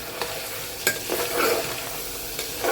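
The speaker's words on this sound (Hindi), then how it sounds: "अदरक लहसुन के साथ भी हम थोड़ी देर इसको भून लेंगे चलाते हुए" Beef liver pieces fry in a pan with ginger garlic paste while a spoon stirs them, giving a steady close sizzle broken by scraping clinks and rattles of the stirring.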